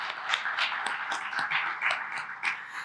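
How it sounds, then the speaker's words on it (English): An audience at a regional summit claps in a light, scattered patter of many hands, moderately distant and fairly quiet, with no talking over it. "So let's definitely clap to that."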